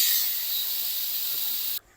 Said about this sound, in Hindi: इसका जो प्रेशर है वो हम सारा निकाल देंगे